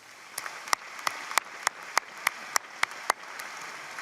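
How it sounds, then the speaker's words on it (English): Sparse, scattered applause at a university commencement ceremony, about ten distinct sharp claps spaced unevenly over a low murmur, fairly faint and without talk. "Let's have a round of applause for these leaders."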